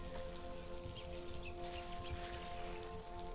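Garden vegetable plants such as eggplant and lettuce get watered, a steady spray of water pattering onto leaves and soil, continuous and fairly loud with no speech.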